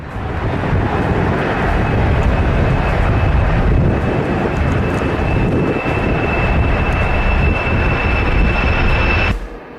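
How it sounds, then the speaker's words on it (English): Boeing 747 taking off, a loud, steady roar of jet engines with a high whine running through it, cutting off abruptly at the end. "This Boeing 747 caused damage to the ground beside the runway during takeoff."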